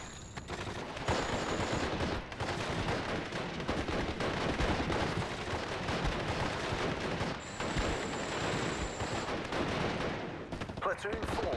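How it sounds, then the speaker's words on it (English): Gunfire and mortar blasts rumble through a Steel Division: Normandy 44 battle in a forest, a steady dense barrage of distant shots and thuds with no pause. "Mortar can start hitting the MG."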